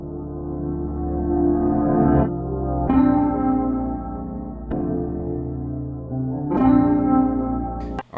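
An FL Studio trap beat element drenched in reverb, repeating sustained tonal chords with a chorus-like, spacious wash that swells and cuts off in roughly two-second phrases, loud and upfront with no talking.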